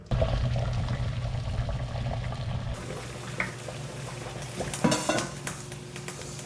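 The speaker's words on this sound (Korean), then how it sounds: "문어를 넣기 전에 다리 모양을 좀 예쁘게 만들기 위해서 이렇게 넣었다 뺐다를 반복하고 있습니다." Clattering pot and dishware sounds with bubbling water as an octopus is dipped repeatedly into a pot of water boiling with radish and leek, a steady simmer under intermittent knocks and splashes.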